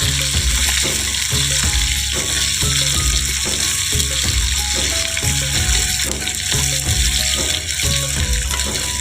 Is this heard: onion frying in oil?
yes